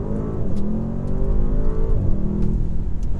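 An Audi car accelerates at a press event, its engine a steady, loud mid-pitched hum that rises slightly in pitch, heard close with no talk over it.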